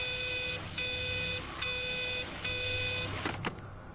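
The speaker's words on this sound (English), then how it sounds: "Phone's beeping?" Electronic phone beeping in the game Everybody's Gone to the Rapture: a steady repeating tone sounds in regular bursts about every second, moderately loud and clear over a dim ambient background, ending with a couple of sharper clicks.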